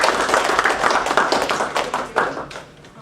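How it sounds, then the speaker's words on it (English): Applause from an audience welcoming a speaker to the podium, sharp individual claps from a modest nearby group, loud at first then thinning out and fading within a few seconds. "welcome her to the podium with strong applause"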